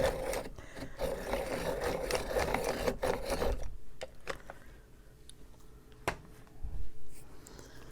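A small coloring pencil is sharpened up close, with a rapid rasping, grinding whirr for a few seconds, followed by quieter scrapes and light taps.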